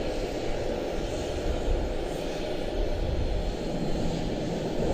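A Boeing 737 airliner departing from Charlotte-Douglas International, its engine roar a steady, broad rumble at moderate distance, continuous and unbroken with no voices over it.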